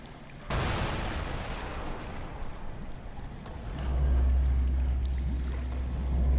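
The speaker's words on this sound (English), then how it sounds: "It blew up." A submarine blows up in a video game with a sudden loud burst that settles into a sustained roaring rumble, followed by a deep low boom that swells near the end, with no talking.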